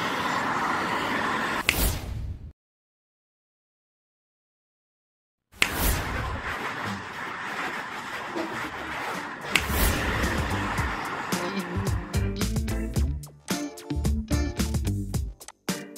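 Vehicles driving past on a road, a steady broad rumble broken by a sudden stretch of silence, then resuming with sharp door-like slams and clattering toward the end, no talk.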